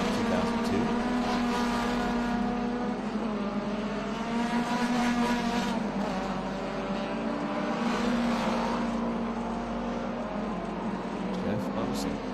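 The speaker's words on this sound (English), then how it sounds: "These Datsun 510s, which is very well balanced, as O'Shaughnessy lays some stripes down there" Vintage race cars including a BMW 2002 and Datsun 510s run on a circuit, a steady engine drone with layered rising tones heard at a distance, with commentary spoken over it throughout.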